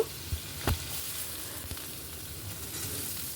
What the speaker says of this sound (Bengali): আলুগুলো হালকা ভাজা ভাজা হয়ে গেলে তারপরে একটুখানি রসুন থেতো করে রেখেছিলাম, রসুনও দিয়ে দেব।